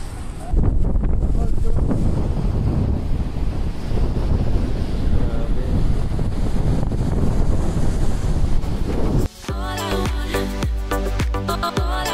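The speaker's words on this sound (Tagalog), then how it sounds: "Yung mismong mga alon na malapitan" Ocean waves crash and roll up close on the shore at Salalah, Oman, under heavy wind buffeting the microphone, a dense continuous roar that drops and shifts near the end.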